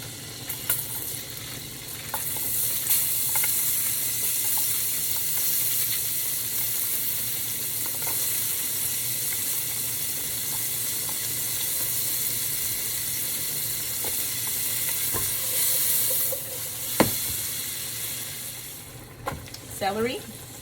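Onion sizzles gently in melted butter in a soup pot, a soft continuous hiss and crackle at low level, with occasional stirring clinks and scrapes toward the end.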